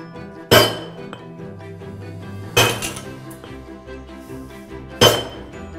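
A stonemason's tool gives small blows on stone to straighten it, three sharp ringing metallic strikes spaced about two seconds apart, each with a short decaying ring over faint background.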